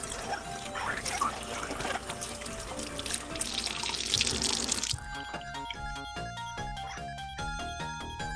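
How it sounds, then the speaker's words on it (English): Hot water runs from a tap in a bookbinding workspace as a steady, loud rushing stream for about five seconds, then cuts off, leaving drips and faint clinks. "Oh, it's hot water."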